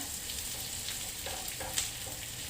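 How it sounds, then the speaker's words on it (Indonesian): Dried hot chilies fry in oil in a pan with a constant bright sizzle and crackle and a few small pops, fairly faint and steady, with no voices. "Terus digoreng-goreng sampai cabainya itu agak kehitaman ya guys."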